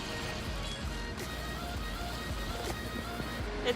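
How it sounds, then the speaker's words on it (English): Sea water laps at a beach near the France–Italy border, a continuous rushing wash of waves heard steadily at moderate volume, with a couple of slightly stronger surges and no talking. "sitting here at the beach, listening to this water"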